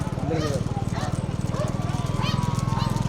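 Rapid rhythmic hoofbeats of bullocks pounding along in a small-bullock cart race, a fast continuous drumming close by, with an excited commentator talking over it throughout.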